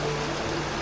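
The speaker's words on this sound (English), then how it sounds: "some of the sound of the waterfalls here" A waterfall in the Great Smoky Mountains, captured on an F3 audio recorder, is a dense continuous rushing roar of falling water, steady and fairly loud, with no voices.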